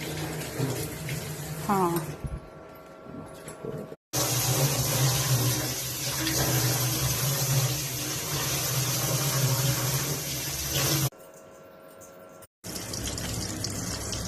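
Tap water runs steadily while pieces of desi rohu fish are washed, a close, full rushing stream with a short pause before it resumes, and people talk over it at times.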